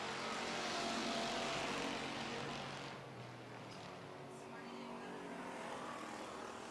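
Street stock race cars circle a dirt track on the final lap of an evening heat, their engines forming a steady loud roar that swells and then settles slightly, heard from the stands.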